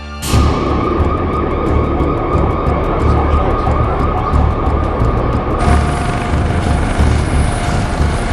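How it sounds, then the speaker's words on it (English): Emergency vehicle sirens wail along Swanston Street in Melbourne beneath the loud, continuous thudding of a helicopter overhead, with the siren tones partly masked by the rotor noise throughout. "There was a lot of sirens, and they were coming down Swanston Street"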